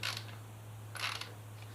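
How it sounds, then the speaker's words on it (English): Torque wrench tightening a 17 mm drain bolt on a Kawasaki Ninja ZX636 engine, two short bursts of ratcheting clicks close by, separated by a quiet pause over a steady low hum. "So we're going to tighten this drain bolt back in. I have my torque wrench at 22."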